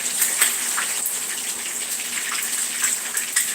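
Running water splashes over rice being rinsed to wash off starch, a steady bright gushing stream with irregular spatters and drips, close and continuous without talking.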